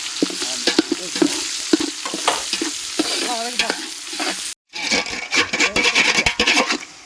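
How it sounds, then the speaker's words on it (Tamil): Onions sautéing toward golden in a pan with cloves and curry leaves, loud sizzling and frying with frequent spatula scrapes and clinks, a brief dropout midway, then vigorous stirring resumes. "அடுத்து வெங்காயம் நல்லா பொன்னரமா வதங்கணுங்க"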